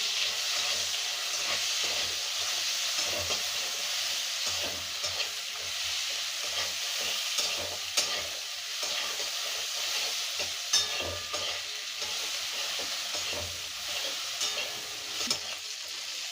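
Chopped onion frying in a wok while being stirred, a dense continuous sizzle broken by sharp scrapes and knocks of the spatula against the metal at uneven intervals, close and clear with no talking.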